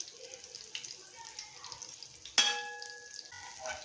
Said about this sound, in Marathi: मी हे शॅलो फ्राय करते आहे.